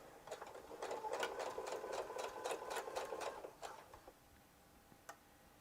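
A sewing machine stitches across a zipper pouch in a steady run of rapid needle strokes, close and fairly quiet, then slows and stops near the end with a couple of isolated clicks.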